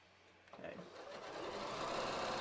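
Sewing machine stitching the inseam of stretch fabric for yoga pants, the fabric gently stretched as it feeds; a steady, fast whirring hum that starts after a quiet half-second and builds slightly louder, running continuously without talk.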